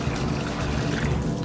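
Water pours steadily into a husky's bowl, a loud close continuous gush lasting a moment without any talking.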